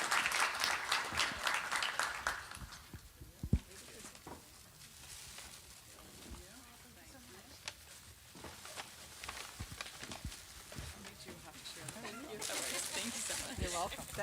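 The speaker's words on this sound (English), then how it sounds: "let's give our panel a round of applause" An audience at a harvest breakfast applauds a panel, with a lively burst of clapping at the start that fades into quieter room sound with a voice, then swells again near the end.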